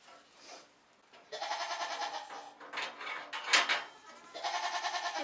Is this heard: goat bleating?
yes